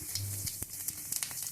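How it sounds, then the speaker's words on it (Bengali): Peanuts fry in refined oil in a kadai, with a soft, steady sizzle and a few faint clicks and scrapes of stirring, heard close and fairly quiet. "কিছু চিনে বাদাম ভালো করে ভেজে নেব।"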